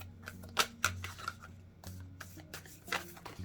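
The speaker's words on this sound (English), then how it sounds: "I'm gonna do one shuffle on camera" Overhand shuffle of a tarot deck, with soft papery flicks and taps coming in irregular bursts, close and fairly quiet, with no talking.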